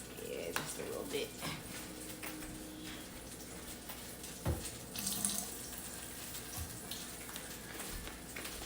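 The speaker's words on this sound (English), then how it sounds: "Make add a little bit more water in it." Water runs from a kitchen tap and splashes into a bowl of pancake mix mixed with Lucky Charms, oatmeal and brown sugar. A continuous trickling stream with light clinks of dishes comes and goes, close to the listener.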